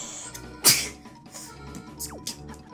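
One sharp, loud sneeze bursts out near the microphone, then quieter room sounds and faint rustling follow.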